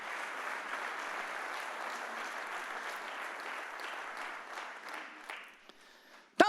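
A church congregation breaks into a steady, dense round of applause that holds for several seconds, then thins and fades, ending with a brief sharp sound at the very end.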